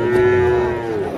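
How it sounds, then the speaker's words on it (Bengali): Cattle lowing at a busy rural riverside cow and ox market in Amtali, Daulatpur, Manikganj: one long, loud, close moo held for about a second, with a low crowd murmur beneath. "প্রচুর গরু উঠেছে।"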